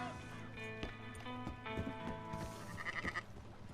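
Sheep bleat and horse hooves clop in a Red Dead Redemption 2 game scene, the animal calls layered over a dense musical backdrop with irregular hoof thuds throughout.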